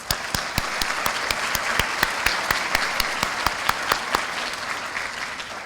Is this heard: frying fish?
no